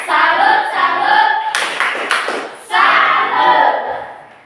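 A classroom group claps the 'tepuk salut' routine, loud bursts of rhythmic hand claps with a short pause in the middle, then clapping again that fades out.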